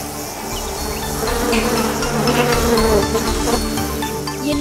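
A swarm of golden insects in an animated film buzzes densely and continuously, a loud close drone of many wings mixed with chirping-like textures, with no talk over it.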